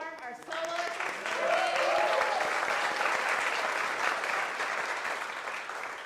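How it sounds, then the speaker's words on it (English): A hall audience gives sustained applause for a choir soloist, with dense clapping that swells after a short start and stays full before easing slightly, a voice briefly heard at the outset. "Another big round of applause for Jillian Storm"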